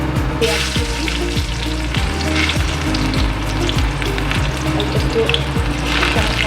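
Ginger and green chillies hit hot oil in a pan and crackle in a loud, dense sizzle that runs throughout, with a regular stirring or ticking pulse beneath it and no talking.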